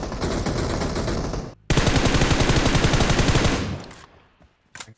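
Automatic gunfire in PUBG Mobile: a long burst, a brief gap, then another sustained rapid burst, close and loud, ending in a few scattered shots as things quiet down.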